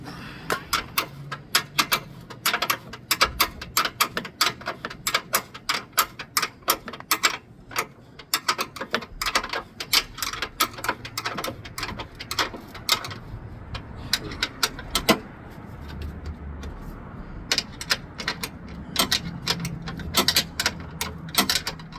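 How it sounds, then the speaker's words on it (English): Rapid ratcheting clicks from a torque wrench tightening bolts on a 2012 Nissan during tie rod and strut work, sharp repeated bursts with short pauses, close and fairly loud. "I think I have to torque these bolts."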